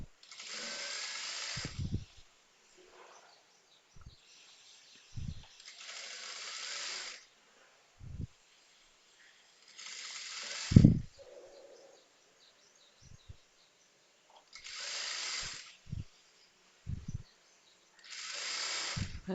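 Sewing machine stitching the side joint of a blouse in short separate bursts of whirring, each a second or two long with pauses between, close and moderately loud, with some low thumps of fabric handling.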